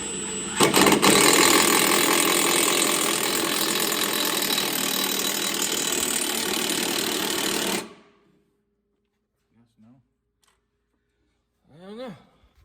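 A ratchet drives a bolt into an engine cradle to check the threads, a loud, dense mechanical clicking run that stops abruptly partway through, followed by near silence with brief faint sounds.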